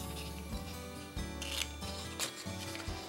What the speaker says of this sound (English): I'm gonna cut this one out